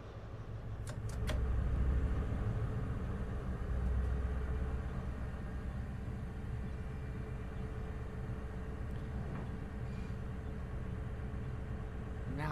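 A GWR train pulls away from Totnes station in Train Simulator 2019, with a low engine rumble swelling early, then settling into a steady drone. A few faint clicks and creaks sit over it.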